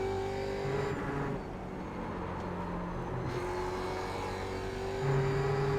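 A Grand Touring Cup race car in the iRacing simulator at Laguna Seca pulls out of a turn, its engine a loud, steady, close droning note that holds and climbs slightly in pitch, with no talking.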